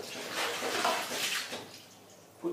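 Water soaked with buckwheat groats is poured off from a container, a close, splashing wash of water that fades out, followed by a brief knock.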